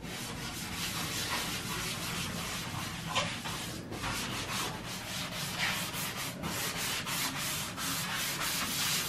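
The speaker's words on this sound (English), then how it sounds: "is it lightly sanding, trying to get the gloss off?" Steady sanding of a glossy wooden baby crib, with continuous rhythmic rasping strokes that hold close and fairly quiet throughout and no talking.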